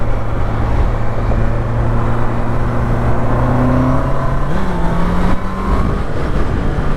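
Honda CBR650R motorcycle with e-clutch riding along, its engine holding a steady, loud drone before a smooth gear change shifts the pitch partway through, with no talking.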